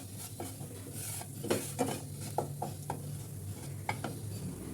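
Cumin seeds sizzle in a small amount of hot oil in a pan for potol dorma, a soft crackling hiss beneath light clinks and stirring taps of a spoon, quiet and close with no voices.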